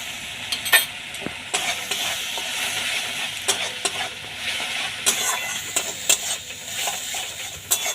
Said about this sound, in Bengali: মশলা ভাজা হয়ে গেছে, পুরো তেল ছেড়ে দিয়েছে।